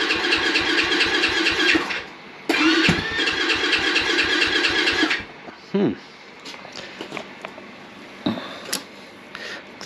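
An X Pro Storm 150 DLX pit bike, a light dual-sport motorcycle, cranks in two long buzzing starter bursts and then coughs into short uneven engine catches, loud and close, without speech over it.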